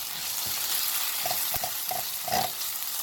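Onion, mixed vegetables and salt stir-fry in a pan for chicken and mushroom fried rice, a soft steady sizzle with a few light scrapes and clatters of a utensil against the pan.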